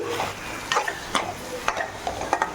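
Paneer pieces are stirred into a sizzling onion gravy, with a soft frying hiss under a series of sharp spoon-on-pan scrapes and taps in an uneven rhythm, close and without talk.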